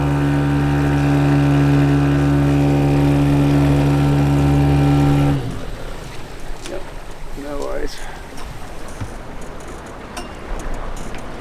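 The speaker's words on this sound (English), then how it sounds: "thank God for the engine that works" A sailboat's engine drones loudly and steadily with a strong hum off Helsinki, then cuts off abruptly, leaving quieter background noise and distant voices.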